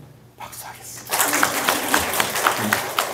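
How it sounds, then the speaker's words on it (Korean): A church congregation at a Sunday worship service bursts into applause after a brief quiet moment with a voice, many hands clapping at a steady, moderately loud level until the end. "박수하겠습니다"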